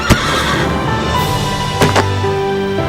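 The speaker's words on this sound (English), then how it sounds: "He's just really good at being a horse on this ranch." A horse on a ranch whinnies loudly and close, with a sharp neigh at the start and another burst near the end over a steady background.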